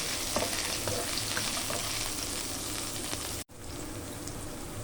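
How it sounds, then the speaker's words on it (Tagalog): Onions sizzle and crackle steadily in a hot pan while being sautéed for a Filipino sardine dish with eggplant and glass noodles, with a brief pause near the end. "lagyan na natin yung sibuyas. Isa-gisa lang natin guys"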